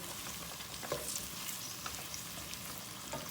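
Onions frying over high heat in a pan, just turning pink, giving a continuous, even crackling hiss with no pauses.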